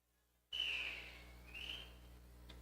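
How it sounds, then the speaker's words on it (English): A referee's whistle at a roller derby bout gives one long shrill blast that fades, followed by a shorter, softer second toot, heard clearly over faint arena hum with no talk. "That whistle ends a timeout only."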